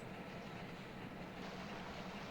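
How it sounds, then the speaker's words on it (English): A diesel train from the video game Railroad Tycoon II runs with a steady, fairly faint rumbling hum and a low droning engine tone, with no breaks and no talk. "Oh, that's a diesel train."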